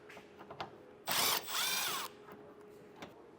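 A power tool drives out T15 screws holding the bumper fascia of a 2021 Buick Enclave: two loud, close bursts of whirring, the second a longer rising whine, with quiet background between.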